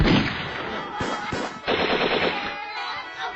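Rapid bursts of automatic gunfire, loud and dense, with a few sharp separate shots breaking through the clatter.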